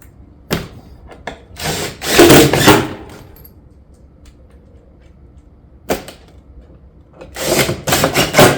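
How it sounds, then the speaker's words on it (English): A power driver runs screws down through roof tile panels on a barrel vault roof, with short whirring bursts and longer buzzing drives separated by quiet pauses, close and loud. "And we're going to fasten down through the top."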